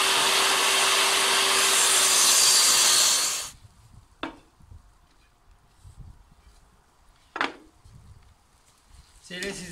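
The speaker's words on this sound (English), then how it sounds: "So I can put it through the planer, take the nasties off it." A planer machines a wooden plank down toward 20 mm thickness, a loud, harsh whirring roar for about three and a half seconds, then cuts off, leaving quieter workshop knocks and scrapes.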